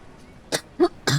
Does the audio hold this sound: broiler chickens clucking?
no